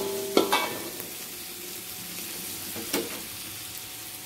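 Tauco fish sauce simmering in a pan, a soft continuous sizzle broken by a couple of brief utensil scrapes and clinks as it is stirred.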